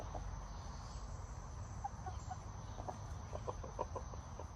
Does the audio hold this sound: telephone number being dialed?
no